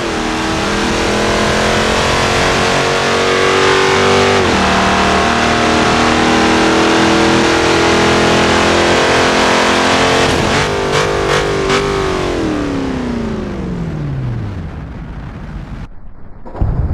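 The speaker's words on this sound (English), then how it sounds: "Dodge Challenger" A Dodge Challenger's engine roars loud and steady in a car-crash video game, holding high revs for a long stretch, then a few sharp hits and the pitch winding down as the car slows.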